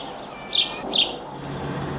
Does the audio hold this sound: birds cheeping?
yes